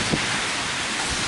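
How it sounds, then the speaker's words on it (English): A wind gust from Hurricane Sandy's storm blows through downtown Leominster, a broad loud rush buffeting the microphone throughout the short stretch. "Oh, we got a gust coming through."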